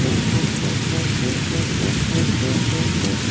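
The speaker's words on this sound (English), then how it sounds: "Pouring rain came down so hard that Monkey and the tractor couldn't react in time." Heavy pouring rain drums steadily on a farm, a dense, loud hiss of downpour with thunderstorm rumble beneath, continuous for a few seconds with no voices.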